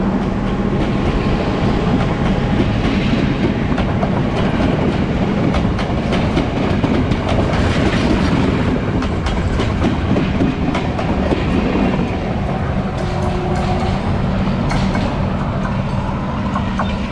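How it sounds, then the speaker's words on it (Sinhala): A train passes close by on the Kadugannawa railway line in Sri Lanka, loud and continuous with rhythmic clickety-clack of wheels over rail joints throughout. "මෙන්න එනවා ට්‍රේන් එක."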